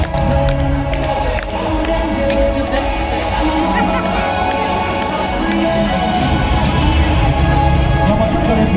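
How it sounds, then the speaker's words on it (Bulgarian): A large outdoor crowd at the Rose Festival parade in Kazanlak claps and cheers in a loud, continuous roar with children's voices mixed in, while talk runs underneath. "И отново нека да чуем още много силни аплодисменти за невероятните ни детски градини."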